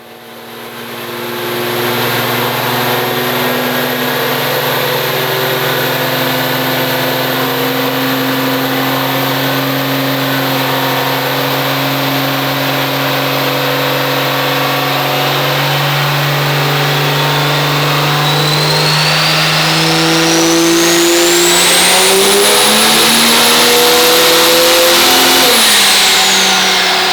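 A high-horsepower drag engine on a dyno drones loudly and steadily, then its pitch climbs sharply in a hard rising pull before dropping abruptly as it cuts off, all without talk.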